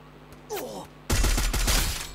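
A rapid burst of video game gunfire cuts in after a brief swooping effect, several sharp shots in quick succession at close range.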